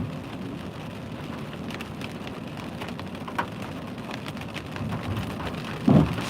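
Rain falls steadily outdoors in Oakland, a dense even hiss with scattered drop patters and a brief louder thump near the end, with no talk.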